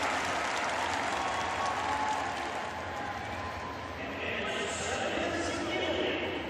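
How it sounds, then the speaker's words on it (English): A stadium crowd roars and applauds for a Japanese runner in a women's 4x400m relay heat at Yokohama, a dense, sustained wash of cheering that swells near the end. "of Japan gets the biggest cheer."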